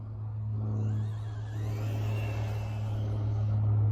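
A radio-controlled car, driven from a one-handed HotRC DS-4A transmitter, whines with a steady electric motor hum that rises and falls slightly as it drives nearby, with no voices.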